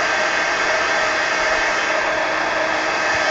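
A hair dryer blows steadily on a mixed media book page, a loud, close, continuous whooshing roar with no breaks.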